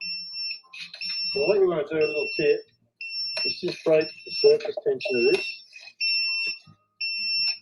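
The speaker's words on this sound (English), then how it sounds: "That's the alarm on the Grainfather" A Grainfather home-brewing system's alarm beeps at boil temperature, a steady high electronic tone pulsing on and off while someone talks over it.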